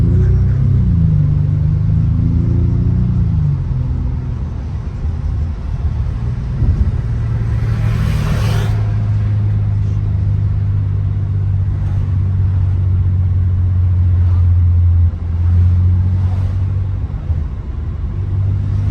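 A used Bentley with 160,000 miles on a test drive, its engine a steady low rumble from inside the cabin, rising briefly with acceleration early on and then holding a constant cruising drone.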